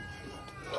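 A single short cat meow rises near the end, faint and a little distant, at a busy Christmas gathering with low background murmur.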